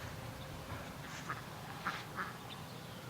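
A Muscovy duck gives three faint, brief quacks outdoors in hot weather, set against a quiet, steady background.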